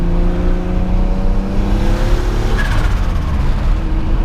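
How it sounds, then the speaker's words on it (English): Turbocharged J35A7 V6 in a swapped 7th-gen Honda Accord making about 550 whp, a steady loud engine drone with a brief rising turbo whistle partway through, no voices. "see if I can get you a little bit of boost noise."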